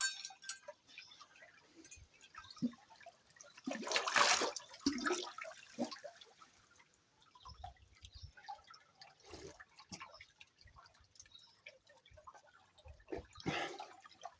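Water from a village spring fountain trickling and dripping, fairly faint, with a few louder splashing bursts and scattered ticks in a quiet outdoor setting.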